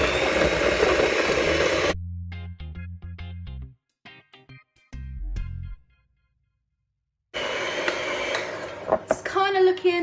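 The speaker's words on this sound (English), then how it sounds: "now we're just going to cream this together, which means whisk. So I have my electric whisk." An electric whisk creams butter and sugar in a bowl: a loud steady whir at the start, then after a silent gap a second burst that shifts and wobbles as it runs, ending with a rising, warbling pitch.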